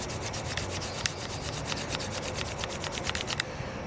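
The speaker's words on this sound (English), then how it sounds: "and then start drilling" A hand drill boring into chert makes a rhythmic scraping grind, with quick repeated strokes at an even pace, close up and steady, and no voices.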